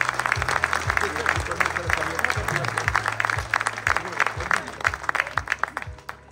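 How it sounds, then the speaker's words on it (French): Audience applause at a ceremony for the canton of Compiègne-Nord elected officials' New Year greetings: sustained clapping from a crowd filling the room, steady and fairly loud, with a low rhythmic thumping pattern underneath. "je voudrais commencer par un tonnerre d'applaudissements s'il vous plaît"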